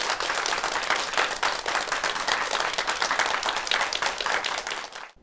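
Dense, steady applause fills a lecture hall as an audience welcomes a professor to the stage, sustained clapping from many hands for about five seconds before it cuts off abruptly.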